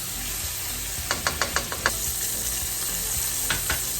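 Ingredients sizzle in a frying pan with Italian seasoning, a steady close hiss broken by a quick run of sharp scraping stir clicks and two more later, no voices.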